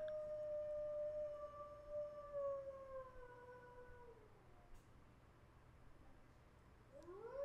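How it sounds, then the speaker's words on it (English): A high-pitched animal howl from a video game, a long sliding wail that falls in pitch and fades, then a second rising howl begins at the end over a steady low ambient hum. "The howl of an animal. It sounds too high to be a dog."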